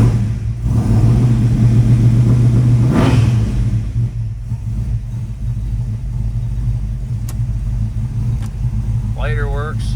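A 1970 Ford Mustang coupe's 302 V8 with automatic transmission revs up inside the car, a loud rumbling rise around three seconds that settles back to a steady idle, with someone talking over it.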